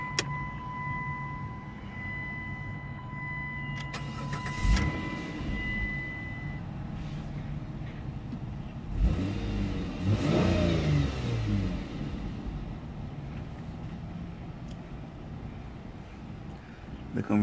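A 2004 Chrysler Sebring convertible with 141,000 miles cranks over and catches, the engine rising into a short rev before settling, close by with a steady background hum.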